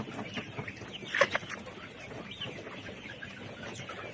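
Layer chickens cluck faintly in a farm shed, with one brief, sharper cluck standing out near the middle over a low, steady murmur of the flock.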